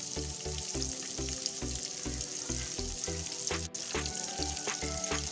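Chicken pieces for KFC-style fried chicken sizzle and crackle steadily in hot oil over a medium flame, a dense continuous frying hiss with a regular pulsing low thump underneath and no talking.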